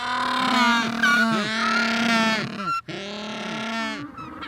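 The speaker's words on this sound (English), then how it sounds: "Penguins often sound more like donkeys, trumpets, or squeaky toys than traditional birds." Penguins give loud, close, harsh braying calls like a donkey or trumpet, a run of repeated honking pulses broken by a short pause near the end.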